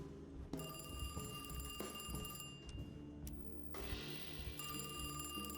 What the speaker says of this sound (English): let me go answer the phone.